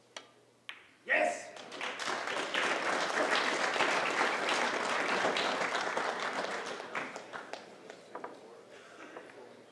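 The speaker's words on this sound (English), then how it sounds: "the crowd, whether they're pulling for Corey or not, they clap for good play" Crowd applause for a good shot at the 2017 U.S. Open 9-Ball Championship pool match, erupting suddenly and holding as dense, steady clapping, then thinning into scattered claps toward the end.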